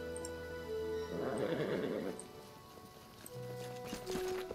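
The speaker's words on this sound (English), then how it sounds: "Guess we can't get into the stables, but you can hear the horses." Horses in the stables of a town in the video game Pathfinder Kingmaker give a loud whinny in the middle, with softer snorts and neighs and light clip-clop, over faint ambient game music.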